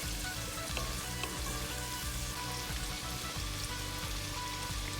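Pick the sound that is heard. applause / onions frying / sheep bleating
onions frying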